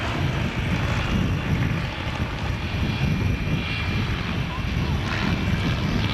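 An aircraft flies in low over the runway at the 1993 Fairford airshow, a steady engine drone with faint propeller buzz sounding from a moderate distance, and no talk over it.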